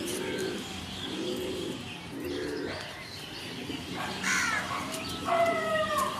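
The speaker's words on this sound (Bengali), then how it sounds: "এবার আজকে একটা পায়রা দেখাই, এক পেয়ার।" Pigeons coo in low, soft repeated phrases at a loft, with other birds calling and chirping around them, including crow-like caws, a fairly faint outdoor mix with no talk over it.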